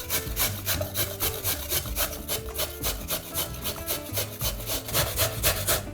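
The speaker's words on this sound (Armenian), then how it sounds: "Կքերեմ գազարը մանր անցքերով։" Carrot rubbed against the fine holes of a grater in quick, even rasping strokes, close and loud, repeating steadily without pause or voices.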